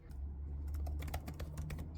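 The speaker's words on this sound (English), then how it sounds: "the keyboard sounds quiet" Soft, quiet keystrokes on the keyboard of an Asus ExpertBook B1402CB 14-inch laptop, a rapid uneven patter of light clicks over a low steady hum, with no talking.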